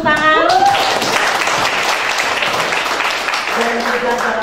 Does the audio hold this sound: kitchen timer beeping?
no